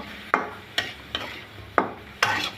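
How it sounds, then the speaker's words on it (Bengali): Washed radish pieces stirred into spices in a pan with a spatula, giving five close, separate scraping strokes at an uneven rhythm. No voices. "এ পর্যায়ে দিয়ে দেবো ধুয়ে রাখা মূলাগুলা। ভালো করে মশলার সাথে মিশিয়ে নিব।"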